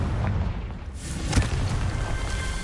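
A Confringo blasting spell explodes in the Hogwarts Legacy video game, a deep booming blast with rumbling debris that swells to a peak mid-clip, with no talking.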